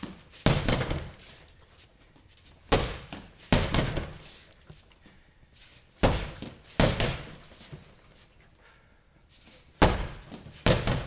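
A round kick and a hook punch land on a heavy bag in a cardio workout, making paired heavy thuds that repeat every few seconds with quiet gaps between.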